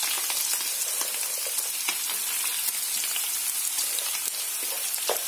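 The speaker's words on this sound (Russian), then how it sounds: "И также это все дело обжариваю" Carrots and onions sizzle steadily with browned meat in a pan for plov, a dense, even frying hiss with small crackles throughout, close and continuous with no voices.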